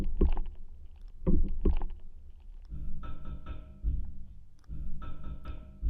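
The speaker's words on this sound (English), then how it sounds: "This is some wood ratcheting." Wood being ratcheted, picked up by a contact mic. It gives rough, grinding clicks in irregular bursts, close and dry, with a low rumbling body.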